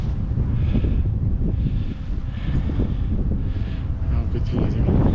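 Strong gusts buffet the microphone at the Lac de Cavayère viewpoint, a continuous loud low roar of wind noise with surging swells and no pause throughout.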